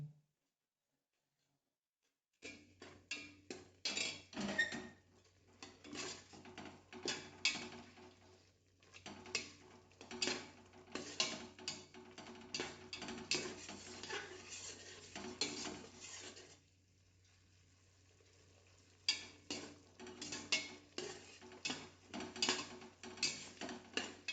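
Ground masala frying in a pan for pulao, stirred with a utensil, gives repeated rhythmic scraping and clattering strokes over a low sizzle, with a couple of quiet pauses between bursts of stirring.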